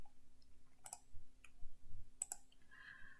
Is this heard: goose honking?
no